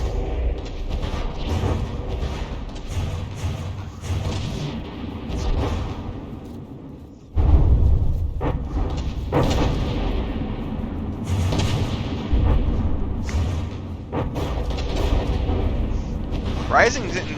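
Battleship guns fire in a naval battle video game, with deep booms and rumbling blasts coming in bursts under near-continuous commentary talk.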